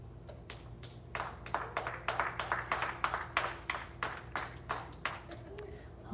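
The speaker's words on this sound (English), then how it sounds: "we can hear a round of applause over on sheet E" Spectators clap in a scattered round of applause at a curling sheet during a Japan versus Canada session, the claps fairly distant and uneven over a low hum of the venue.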